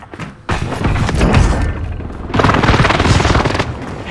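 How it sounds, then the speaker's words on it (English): Loud, close explosions from an airstrike in Call of Duty Warzone Pacific on Rebirth Island hit in two heavy waves of booming, rumbling blasts, each followed by a crackling roar. "Allied precision airstrike incoming."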